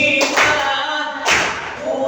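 A group of people clap their hands together in time during a classroom song, producing a couple of loud, close bursts of claps amid the singing.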